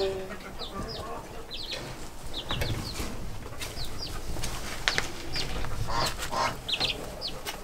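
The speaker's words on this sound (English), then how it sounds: "2 dark Turkins, a little black silky mix, and then the 2 white Turkins." Young Turken and black Silkie-mix chicks in a brooder give repeated short high peeps and cheeps, scattered throughout, with light rustling and a faint flutter underneath.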